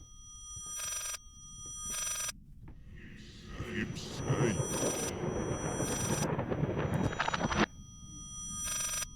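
An old-fashioned bell telephone rings in repeated bursts inside the horror game Layers of Fear, each ring a sharp metallic trill with short pauses between, partly masked midway by a loud rustling, clattering stretch of game noise.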